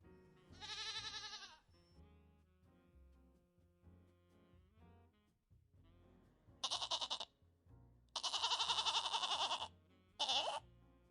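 A goat bleats four times: one nasal, quavering cry, then after a quiet pause three more in quick succession, the third long and strained and the last short.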